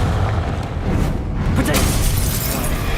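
A Confringo spell explodes in Hogwarts Legacy with a dense, loud crackling boom that roars on as continuous blast noise for several seconds.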